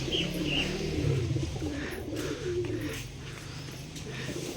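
Giribaz tumbler pigeons coo in low, throaty, overlapping calls close by, a continuous burbling chorus from a loft.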